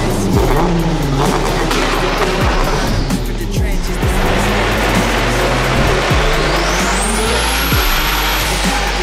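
A Nissan 200SX fitted with a twin-turbo VQ35 engine runs loud and close, its deep exhaust rumble swelling with throttle blips and a thin whine climbing near the end.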